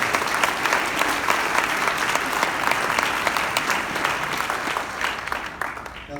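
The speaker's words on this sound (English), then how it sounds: "Give yourself a round of applause." Sustained applause from a large audience at a medical school white coat ceremony, dense steady clapping filling the room for several seconds without letup.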